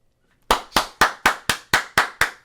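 Eight sharp hand claps in a steady, evenly spaced rhythm, close and loud, with silence before the first clap and no talking.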